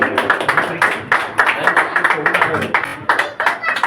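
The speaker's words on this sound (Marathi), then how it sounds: "जरा टाळ्या जोरात होऊ दे." An audience at a medical camp felicitation claps in a lively, uneven patter of close hand claps, with voices talking underneath throughout.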